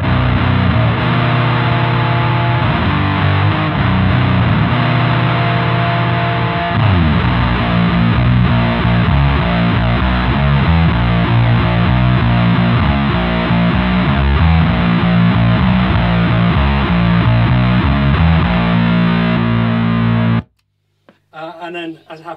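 Electric guitar driven through a Sodomizer distortion pedal stacked into a boost, with heavy low end and aggressive midrange sustain, playing loud dense chugging riffs continuously for about twenty seconds before cutting to a brief ring-out.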